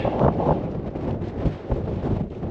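Strong wind buffeting the microphone on a mountain summit in the Lake District, a constant roaring rumble with gusty swells and no voices.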